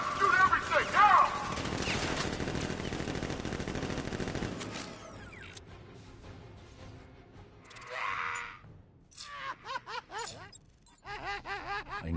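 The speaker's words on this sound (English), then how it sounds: "Guard! Open fire! Shoot everything! Now!" Bursts of automatic gunfire from guards in Batman Arkham Knight, a loud dense volley at the start that fades into scattered shots, with character voices and game effects following.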